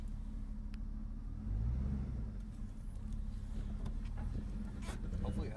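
A 1987 Ford Crown Victoria engine revs on its first drive after revival, a deep low rumble that swells around the middle and then holds steady, with people talking quietly over it.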